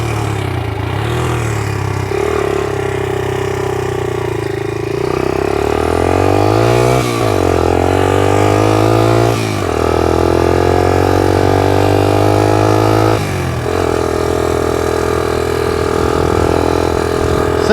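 A 1982 Honda XL80S small motorcycle engine runs close by, a loud steady buzz that climbs in pitch with several throttle blips and then falls back to idle, with no one talking.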